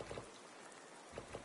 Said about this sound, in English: Cold outside, it's raining.